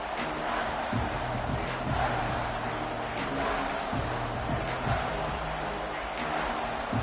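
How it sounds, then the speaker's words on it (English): An Auburn football stadium crowd roars on third down, a broad, sustained wash of voices and noise from a large crowd that swells slightly in places. "This Auburn crowd trying to conjure up a little magic here on 3rd down"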